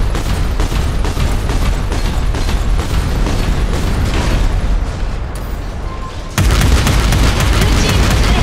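A turret is destroyed in the video game Figureheads: a loud, continuous roar of explosions with rapid booming bursts, a brief dip near six seconds, then a renewed, heavier blast that runs to the end.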